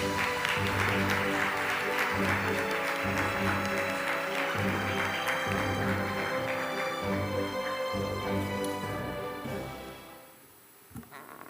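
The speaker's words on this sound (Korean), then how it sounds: "큰 박수로 맞이해 주시기 바랍니다." Sustained applause from a large conference audience welcoming a youth activist and lab founder to the stage at a Summit for Democracy expert roundtable, steady and dense for about ten seconds before fading away.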